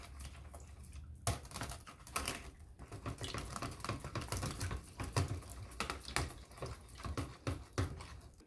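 A spoon stirs cornstarch and water in a small bowl, giving a quick run of light, irregular clicks and taps against the bowl, soft and close, with no talking.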